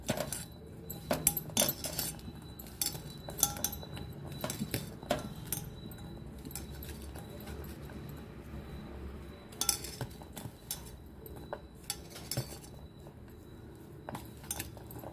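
A spoon stirs damp corn kernels in a bowl while preparing crispy corn, producing continuous clinking and scraping against the dish with frequent sharp taps, close and moderately loud.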